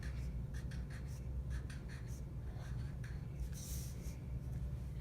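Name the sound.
writing a name on paper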